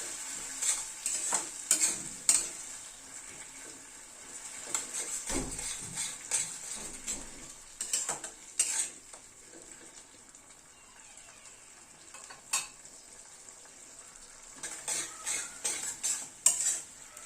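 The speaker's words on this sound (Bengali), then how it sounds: "সব সসগুলো দিয়ে একটুখানি নাড়াচাড়া করে নেব।" Schezwan chili sauce and other sauces being stirred into an egg curry in a pan, a spoon scraping and clinking against the metal in irregular bursts over a soft sizzle.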